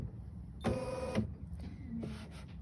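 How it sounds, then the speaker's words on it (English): An embroidery machine stitches a straight line in a quilting hoop, giving a short burst of rapid mechanical whirring followed by a brief second run, faint against quiet room noise. "And now the machine has stitched a straight line here."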